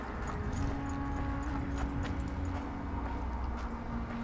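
A horse canters in The Witcher 2, with steady clip-clop hoofbeats running continuously at a moderate volume over a low ambient game drone, and no talk.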